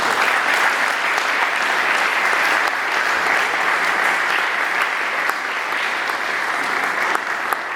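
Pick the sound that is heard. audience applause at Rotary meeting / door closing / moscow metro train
audience applause at Rotary meeting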